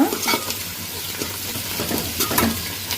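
Chopped ginger root tossed into a hot pan for chicken curry, sizzling steadily at close range while a utensil scrapes and taps the pan in irregular strokes, with no voices.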